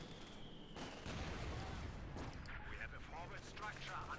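Machine gun fire and battle explosions from the World War II strategy game Company of Heroes 2, with a machine gun bunker in action, a steady dense barrage of shots and booms with a commentator talking over it.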